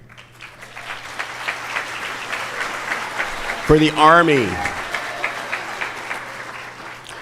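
Applause for veterans at a middle school Veteran's Day assembly: a steady wash of clapping from a large audience that keeps going throughout, with someone speaking briefly over it.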